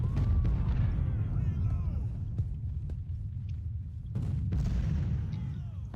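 Artillery fire in the Civil War strategy game Ultimate General: Civil War, set at the First Battle of Bull Run, with booming cannon shots and heavy rumbling battle noise running continuously throughout, loud and dense.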